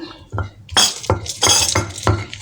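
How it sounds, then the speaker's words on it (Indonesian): Red bird's eye chillies pounded in a stone mortar, a series of about five dull thuds mixed with sharp stony clinks and grinding scrapes, close and fairly loud, with no talking. "awalnya kita ulek dulu untuk cabenya. Cabai rawit merah aja dulu ya Bun."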